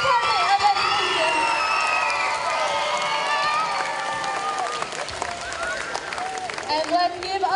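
A school audience at an elementary school event claps and cheers steadily, with whoops, high excited voices and shouting running continuously through the dense, loud applause.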